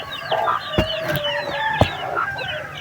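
Chickens cluck and chatter close by, with short sharp calls and a brief squawk amid general barnyard noise.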